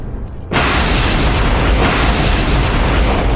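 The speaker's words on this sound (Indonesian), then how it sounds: "Tombak itu menghantam tengah kepala Monfar, menembus lapisan pelindung dan meledak dari dalam." A golden dragon spear explodes in a fantasy audio drama: a sudden, massive blast erupts after a brief quiet moment, then roars on as a loud, dense rumble with further surges, with no voices.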